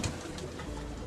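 A handled racing pigeon gives a brief low coo at the start, close and fairly quiet, followed by muffled handling noise with no talk.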